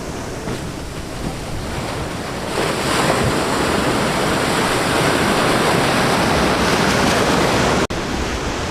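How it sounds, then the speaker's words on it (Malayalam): Sea waves at Chethy beach roar in a continuous, heavy wash of surf, mixed with wind buffeting the microphone, loud and close and growing fuller partway through, with a brief dropout near the end. "ഇപ്പുറത്ത് കടലാണ്, കടലിങ്ങനെ കയറി നിൽക്കുകയാണ്"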